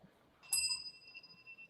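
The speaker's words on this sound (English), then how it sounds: "ring my bell" A single bright bell ring with a clear lingering metallic tone that fades out, heard once in a quiet room with no speech.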